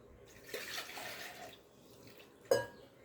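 Water pours into a pan of kurma curry with a soft liquid rush that fades out, then a sharper splash near the end, quiet and close.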